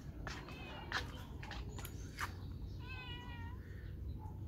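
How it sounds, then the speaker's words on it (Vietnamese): A cat meows faintly several times beside a flooded pond after a storm, short thin cries over steady rushing water noise. "Con mèo nó đang dính bắt cá này các bạn."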